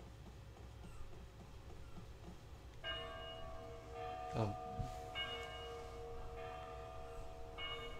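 A bell chimes twice in the video game Lost Odyssey, with bright ringing tones that sustain over a low rumble. A short clatter falls between the chimes, and a voice briefly exclaims.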